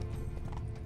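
Steady hoof clip-clops of a horse on a hard surface in the video game The Witcher 3: Wild Hunt, close and continuous with a low rumble underneath, no talking.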